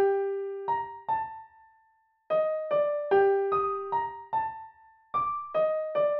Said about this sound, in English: I'm gonna use a very simple melody I just made with FL keys